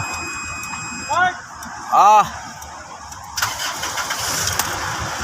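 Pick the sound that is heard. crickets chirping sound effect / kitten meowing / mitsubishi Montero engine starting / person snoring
mitsubishi Montero engine starting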